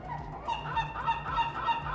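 Seagull calls cry out repeatedly against a steady low hum, a few bright squawks spread through two seconds at moderate level.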